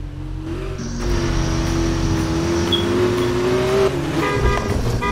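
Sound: Audi car engine revving in a video game

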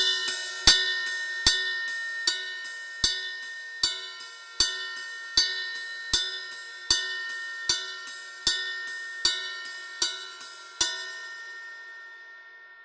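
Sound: drum kit groove in seven with ride cymbal pattern

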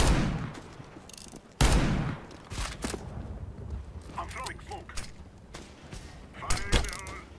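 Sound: revolver gunfire in the video game CS:GO

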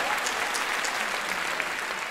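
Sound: applause for director Jim McNabb

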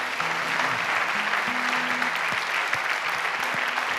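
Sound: big round of applause from congregation

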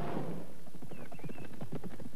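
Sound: horse hooves clip-clopping

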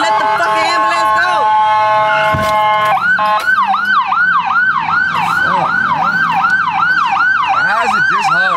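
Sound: ambulance siren in traffic

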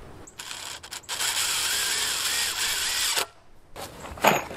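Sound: partially driving lag screws with a drill

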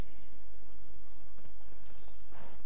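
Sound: horse called and galloping in The Witcher 3, video game

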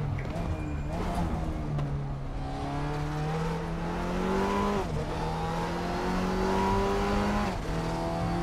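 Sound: Audi TT Cup race car accelerating, RaceRoom video game

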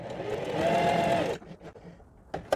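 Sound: sewing machine stitching fabric

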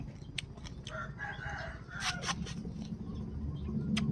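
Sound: rooster crowing

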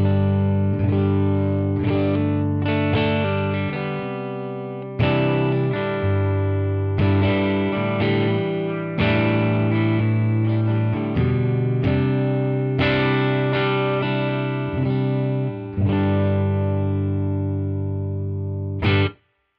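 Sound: clean electric guitar, neck pickup

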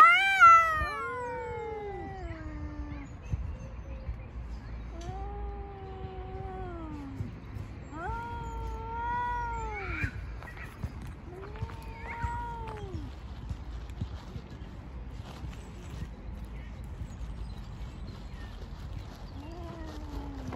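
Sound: cats fighting and caterwauling

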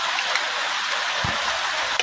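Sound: rain falling

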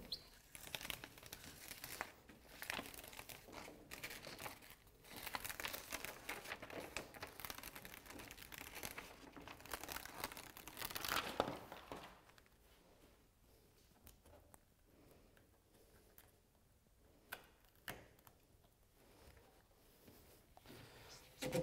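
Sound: peel-and-stick flashing tape being unrolled

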